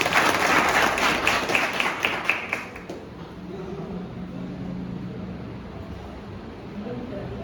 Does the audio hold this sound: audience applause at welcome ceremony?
yes